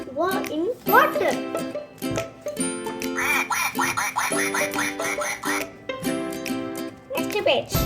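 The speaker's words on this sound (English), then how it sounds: "The duck say quack quack." Electronic duck quacks from a toddler's farm animal sound book, a repeated series of bright, buzzy quacks in a rhythmic toy jingle, with a brief child-like voice at the start and end.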